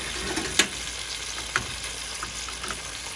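Butter melts in a hot pan with a steady, moderate sizzle and hiss, broken by a couple of sharp pops and small spatters, close by and with no voices.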